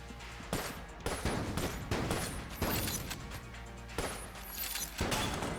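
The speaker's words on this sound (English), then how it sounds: "Love the sound of the reload too." Video game Enter the Gungeon gunfire with reload effects: repeated loud bursts of shots at roughly one-second intervals, interleaved with mechanical clicking reload sounds, a dense run of game effects with no talk.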